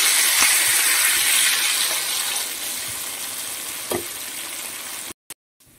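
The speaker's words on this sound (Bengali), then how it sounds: "আলুগুলোকে বেশি কিছুক্ষণ একটু লাল লাল করে ভেজে নেব।" Potato pieces rubbed with salt and turmeric fry in a pan, giving a dense, even sizzle with an occasional stir before the sound cuts off abruptly near the end.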